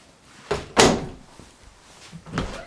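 Inside a house, a linen closet door opens with a couple of soft thuds and a knock from the door, followed by a quieter bump, all close and moderately loud, with no talking.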